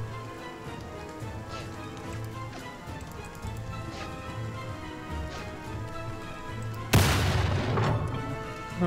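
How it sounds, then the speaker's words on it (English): A cannon in the medieval battle game Conqueror's Blade fires once with a single loud boom that rings out over a continuous battlefield din of hooves and distant clatter. "That's a fun cannon."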